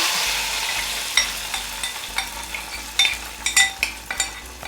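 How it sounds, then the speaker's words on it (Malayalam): Fried onions in hot oil are poured into rice gruel, giving a rising series of sharp hissing sizzles and spatters, louder and more broken toward the end, with no talk. "ഉള്ളി കാച്ചിയതും കൂടി ഒഴിച്ചിട്ട്"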